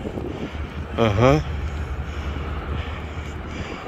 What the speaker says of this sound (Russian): Ветер. А он тут забуздырит метров 20-25.